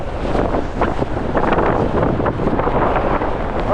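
Strong 25 to 30 mph gusts buffeting a microphone on a walk down a road, a loud continuous roar with rumbling surges and no pauses.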